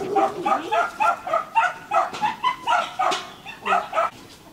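A white curly-haired Bac Ha dog, a young one of about 20 kilos, barks close by in a quick series of yipping barks with whimpery edges, some voices murmuring underneath.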